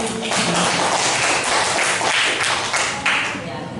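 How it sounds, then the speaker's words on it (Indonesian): Classroom applause for a classmate during a lesson, dense steady clapping from many pupils filling the whole stretch, fairly loud and close, with voices mixed in underneath. "Aplaus untuk temannya."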